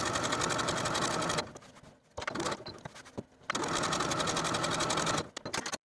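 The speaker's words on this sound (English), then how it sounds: "Now I'm going to take it to my sewing machine and sew close to my serging stitches all around the slit" A sewing machine stitches close to serging along a garment slit, running in steady loud bursts with two brief pauses, likely while the fabric is turned at the bottom of the slit.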